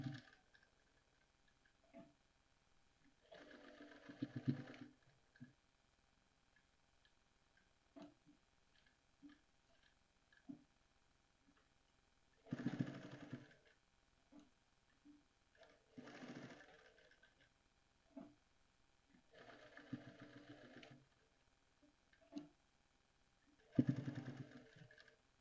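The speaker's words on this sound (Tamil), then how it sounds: "இந்த இடத்துல நல்லாவே பேக் ஸ்டிச் கொடுத்துக்கோங்க, ஏன்னா பிரியாமல் இருக்கணும்." Sewing machine running a back stitch to lock a seam, in several short bursts of fast mechanical stitching separated by quiet pauses, fairly close and moderately loud.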